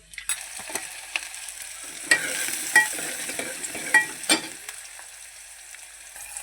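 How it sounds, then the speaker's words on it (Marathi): Mustard seeds and cumin sizzle in hot oil as misal is started: a continuous bright frying hiss, close and fairly loud, broken by a few sharp crackles and pops. "तेल गरम होऊन दे टाकूया एक चमचा राई चढली जिरं"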